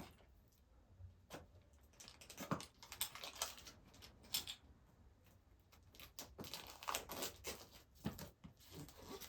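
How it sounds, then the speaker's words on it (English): Keys scrape and tap against plastic wrap and cardboard while slicing open a boxed tarot deck, giving irregular close crinkles and clicks over a quiet room. "I'm going to use my keys to open it."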